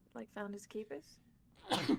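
A single sudden sneeze bursts out right after a few spoken words during a tabletop role-playing game session, close and fairly loud.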